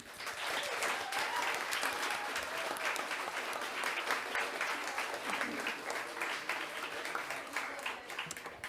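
A live audience at a poetry event at The Blue Lamp gives a poet sustained applause, a dense, even roar of many clapping hands that holds steady for several seconds.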